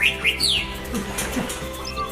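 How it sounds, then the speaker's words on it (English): An oxpecker gives a few sharp, rising chirps as an alarm call near the start, followed by fainter bird calls over a dull background hum. "The oxpecker sees predators from its elevated position on a 2-meter-tall animal and calls the warning."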